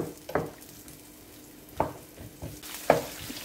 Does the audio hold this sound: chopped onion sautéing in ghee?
yes